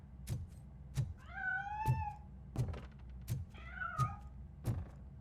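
A cat meows twice in the video game RoboCop Rogue City, with long rising and falling cries over a steady, rhythmic low thumping and a loud ambient background.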